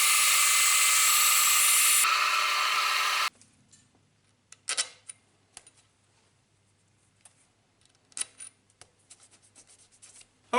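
A milling machine drilling holes in a metal part for a small wobbler engine: a loud, steady whine for about three seconds that cuts off abruptly, followed by scattered light clicks, taps and clinks.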